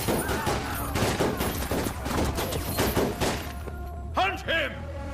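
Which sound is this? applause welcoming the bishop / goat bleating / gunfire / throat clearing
gunfire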